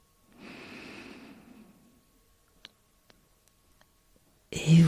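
A person draws one slow, airy breath during a guided breathing session. A few faint clicks follow in near silence, and a sudden loud burst cuts in at the very end.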